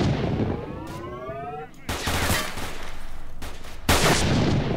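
Gunfire in S.T.A.L.K.E.R. Shadow of Chernobyl, sharp loud shots in separate bursts with a whining ricochet-like tone before them, over game ambience.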